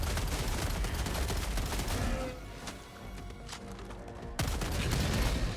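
Weapon fire in Helldivers 2, where an Expendable Anti-Tank launcher is used: loud, dense bursts of shots and blasts fill the mix, ease off briefly in the middle, then return with a sharp heavy crash.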